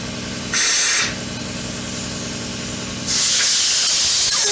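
Compressed air blasts into the sleeve seam of a throttle cable on a 1993 Yamaha Riva 125 scooter, two sharp hissing bursts, one short and one longer, up close over a low steady hum.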